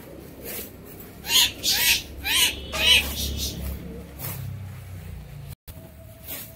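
A flock of Giribaz pigeons circles one by one over a house, giving a few short, bright bird calls in quick bursts over a low, steady outdoor rumble. Calls come moderately close and there is no talk.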